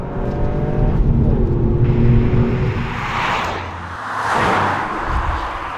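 The 260-horsepower engine of a Toyota GR Yaris revs hard toward its red line, a loud, close, rising engine note with gear changes and surging acceleration, no voices over it.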